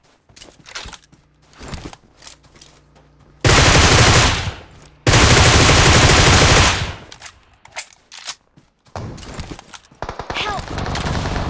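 Automatic gunfire in a video game match comes in two long, loud bursts of rapid fire, with scattered shots, in-game noises and brief vocal sounds before and after.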